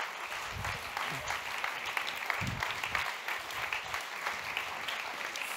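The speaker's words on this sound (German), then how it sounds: "Das ist euer Applaus." An audience at a Berlin event applauds in continuous, even clapping, fairly loud and dense, with muffled voices and low thumps beneath.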